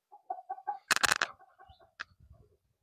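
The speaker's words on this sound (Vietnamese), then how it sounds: "Gà này được xuất rồi, gà này tầm 4 tháng hơn rồi." Chickens cluck on a farm where the birds are about four months old. Short, close clucks come in small bursts with a few pauses, with a louder flurry in the middle and another sharp call near the end. Nobody speaks.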